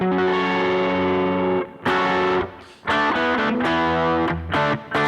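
Distorted electric guitar plays a single part from a rock song, with sustained chords and then choppy, rhythmic hits, loud and upfront, with no voices.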